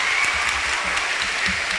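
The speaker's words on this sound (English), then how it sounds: "I think he deserves a better round of applause for that." Hall audience at an Easter music concert clapping together, a steady, full round of applause from many hands at close range.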